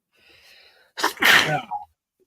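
Single sharp sneeze from a person during a live podcast, preceded by a faint intake and followed by a short trailing sound, close and loud against near silence.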